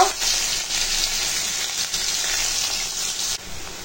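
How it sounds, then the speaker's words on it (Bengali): Chopped onions go into hot oil left from frying elephant-foot yam, giving a loud, continuous hiss of frying up close that eases slightly near the end, with no one talking. "পেঁয়াজটা ভেজে নেব।"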